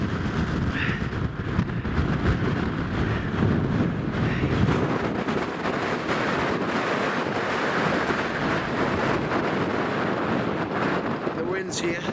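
Strong wind buffets the microphone on an exposed hillside at dusk, a steady loud low rumble and roar lasting throughout with gusty swells and no let-up.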